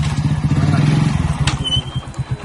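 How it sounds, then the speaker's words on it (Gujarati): A motorcycle is taken out through floodwater in a waterlogged residential lane, its engine a low, pulsing putter close by, with some clattering and a brief voice in the background. "હું બાઇક કાઢું છું"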